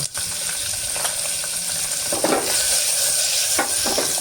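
Ivy gourd (tondli) spiced with chilli powder sizzles and hisses in hot oil while a spatula scrapes through it in a few stirs, close and loud, with no talking.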